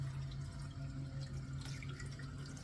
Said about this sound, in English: that's the temperature of water that you're going to rinse your yarn in